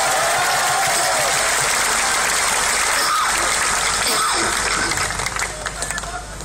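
A large outdoor crowd at a Jan Lokpal rally at Jantar Mantar claps and cheers, a continuous wash of applause and crowd noise with voices mixed in, loud throughout and tapering slightly at the end.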